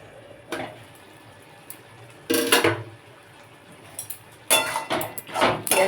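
Metal lid set on a pot of simmering snake gourd vegetables, with several close clanks and rattling bursts separated by quiet gaps and no speech.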